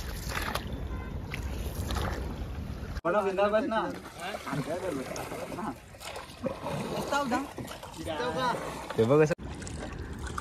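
A boat moves across open water near a bridge on a river or creek where crabs are caught. The engine drones under wind and splashing, with people talking over it in the middle section.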